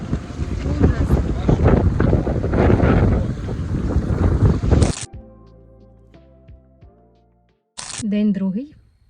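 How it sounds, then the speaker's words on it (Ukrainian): Strong gusty sea wind in Sweden batters the microphone with loud rumbling buffeting for several seconds, then cuts out to quieter tones before a voice speaks briefly. "дуже вітряно"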